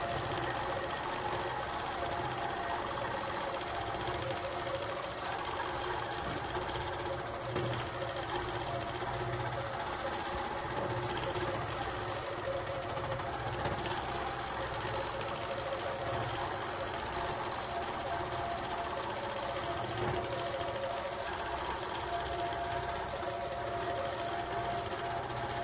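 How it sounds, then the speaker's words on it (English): A long arm quilting machine stitching a quilt, a steady mechanical whir and hum with rapid needle chatter running continuously at an even level, close by and with no talk. "Just sharing a little bit of the long arm running to do the quilting."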